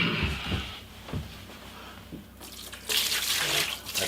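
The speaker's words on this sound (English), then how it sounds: "put 2 gallons of water in here." Rainwater from an old bucket splashes and gurgles into a full-size bathtub in a shipping container home, with uneven pouring bursts and a hissing rush of water, near and fairly loud.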